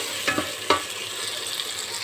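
Garlic and ginger fry in a karahi, a soft continuous sizzle with two sharp stirring clinks of a spoon against the pan early on, fairly quiet and without talk.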